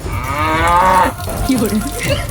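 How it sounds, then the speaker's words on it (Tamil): Cow mooing loudly and close, one long drawn-out low call followed by a shorter, rougher bellow, with little else around it. "மாடு"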